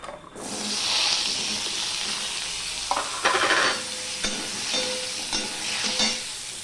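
Cut, washed potatoes dropped into a pan of hot oil with five-spice tempering, a broad steady sizzle punctuated by a few louder stirring scrapes and clatters, close and continuous with no talk.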